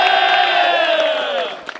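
Crowd at a disc golf tournament cheering and shouting together, a loud sustained roar that slowly fades over a couple of seconds, with a few scattered claps at the end.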